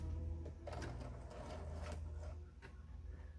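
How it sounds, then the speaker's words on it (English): A sewing machine runs steadily and quietly, making a back stitch at the end of a seam on a small reversible tote. Its low motor hum carries a fine rapid needle chatter throughout. "And then I'm going to create a back stitch on the end."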